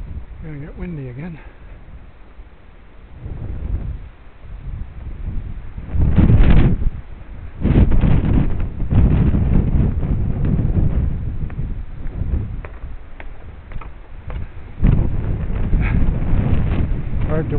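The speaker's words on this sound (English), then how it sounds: "Gonna get windy again." Wind gusts buffet the microphone on a coastal walk from Watson Bay to Coogee, rising into loud rumbling bursts with brief lulls, while a person talks over much of it.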